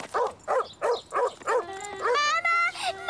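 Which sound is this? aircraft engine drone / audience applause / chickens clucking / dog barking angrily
dog barking angrily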